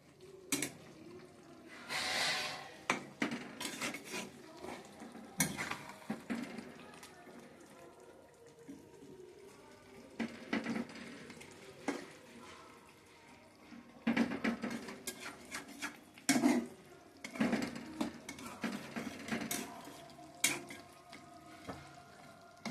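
Bhola fish curry being stirred in a pan, intermittent scraping and clattering strokes with soft bubbling between them, close and fairly quiet, with occasional faint voice sounds.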